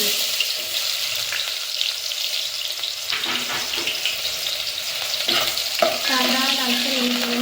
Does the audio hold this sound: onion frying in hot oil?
yes